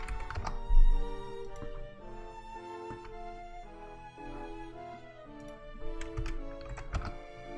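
A computer keyboard is typed on in uneven bursts of close, crisp key clicks, with a few heavier thunks mixed in and no talking.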